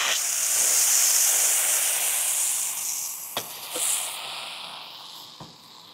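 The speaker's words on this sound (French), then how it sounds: "Regardez l'effet Leidenfrost." Water sprayed onto a hidden Gaggenau hob beneath a Dekton worktop skitters and hisses from the Leidenfrost effect, a loud continuous steamy hiss that fades gradually, with a few short sharp crackles and pops near the end.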